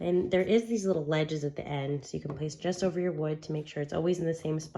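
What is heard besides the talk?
None of the usual background noises is heard.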